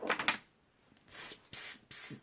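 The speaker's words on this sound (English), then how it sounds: "You can take a setting spray and then" Three short hissing spritzes from a bottle of makeup setting spray, close and evenly spaced, after a brief rattle at the start.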